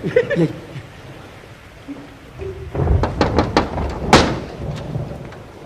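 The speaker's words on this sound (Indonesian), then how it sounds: "Jangan ketok-ketok pintu, kan ada bel ini." Knocking on a door breaks out in a burst of several firm, close raps over a background of rain and rumbling thunder.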